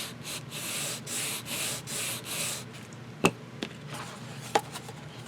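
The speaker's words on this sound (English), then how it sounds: "And then I'm going to burnish this." A paper cover is burnished onto a chipboard book spine with a series of rhythmic rubbing strokes, close and fairly soft, followed by a few sharp taps and quieter handling sounds.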